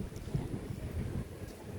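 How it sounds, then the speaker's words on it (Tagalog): Strong wind gusting outdoors during an evening exercise session before rain, a steady low rumbling buffet against the microphone throughout, with no voices. "ang lakas ng hangin."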